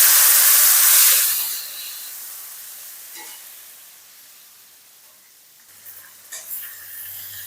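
Tomatoes dropped into hot oil with crushed garlic for a Lote fish curry give a loud burst of sizzling that fades to a steady low hiss, with a few faint stirring clatters near the end.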